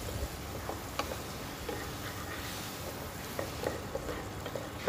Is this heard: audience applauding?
no